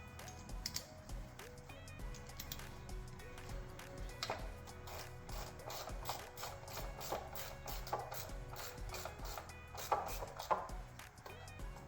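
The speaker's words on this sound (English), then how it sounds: "I'm going to go ahead and just force my way in there and tighten up these bolts." A ratchet tightening the bolts on the variable valve timing solenoid of a 2022-2025 Toyota Tacoma 2.4L engine, giving quiet rapid clicking bursts and metallic knocks at close range.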